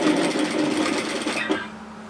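A sewing machine runs a straight seam on a Gina apron with a quick, even stitching whir up close, slowing and stopping near the end, with no voices.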